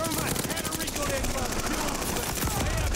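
Rapid bursts of Sten submachine gun fire from Call of Duty: Vanguard, loud and close, with dense rattling shots and game action running throughout.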